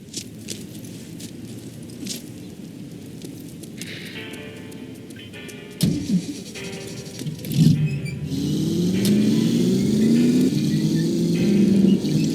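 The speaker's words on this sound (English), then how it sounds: "That's my car there. I'll drive." Car driving in the video game The Saboteur, with engine hum building from about six seconds and holding a steady rumble toward the end, mixed with game ambience.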